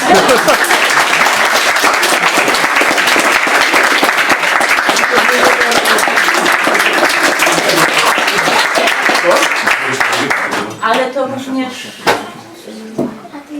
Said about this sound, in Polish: mogły być teraz oklaski